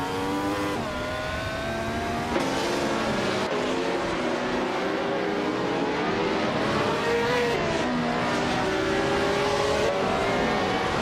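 Classic race cars, an Eagle Mark 1 T1G and a 1967 Lotus 49, roar steadily with rising and falling engine pitch as they race in a game, a continuous loud drone of several engines with shifting revs and no talk.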